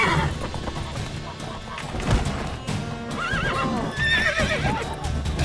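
A horse in The Witcher 3 video game neighs and whinnies loudly while hooves clip-clop, mixed with busy game sound and a background score.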